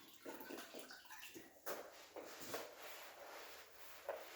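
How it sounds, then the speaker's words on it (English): Soft crackling and hissing fizz with gentle bubbling and a few small splashes from prep solution on a concrete floor, quiet and close. "Oh yeah, that's got a good fizz."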